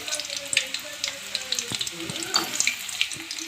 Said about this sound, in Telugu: ఆయిల్ వేడెక్కాక ఉల్లిపాయలు వేసాను